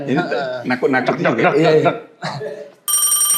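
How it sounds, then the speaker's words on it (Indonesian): A telephone rings with a steady, bright electronic tone that cuts in abruptly at the end, right after lively conversation and chuckling between people in a talk-show setting. "Telepon SBY."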